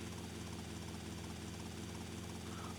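A small helicopter in GTA Vice City Definitive Edition gives a constant, low whirring rotor and engine drone at a steady level, with no talk over it.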